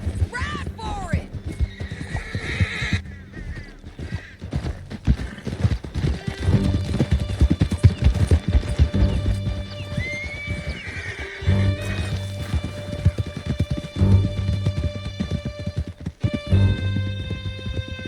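Horses gallop in Red Dead Redemption 2, with steady rapid hoofbeats, several neighs and whinnies, and game dialogue spoken over the ride throughout.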